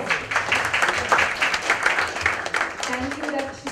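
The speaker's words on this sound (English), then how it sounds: "Doesn't she deserve a big round of applause?" Audience applause at a diamond jewellery collection launch, a dense crowd clapping steadily throughout, with a voice or two and cheering mixed in over the noisy room.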